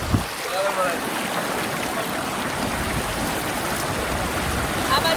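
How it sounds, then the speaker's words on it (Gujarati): Rushing stream water at Zarwani waterfall near the Statue of Unity in Gujarat, a loud, close, steady broadband roar of flowing river water filling the whole clip. "પાણી રોજ એટલો છે ને કે માણસને આમ સહેજ વધારે તો ખેંચી જાય"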